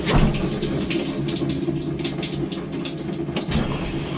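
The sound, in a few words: washer water inlet valve filling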